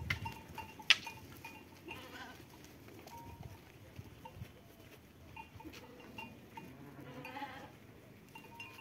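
Several sheep bleat faintly at a distance, scattered calls rising now and then over quiet outdoor background noise.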